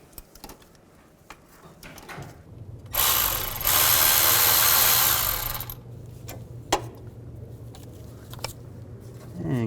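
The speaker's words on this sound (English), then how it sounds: "Use a 15mm socket and a ratchet and take those bolts out." A ratchet with a 15mm socket works engine mount bolts loose on a 2000-2006 Chevy Tahoe, with a few close clicks, then a loud whirring run of several seconds, followed by scattered clicks and clanks and no speech.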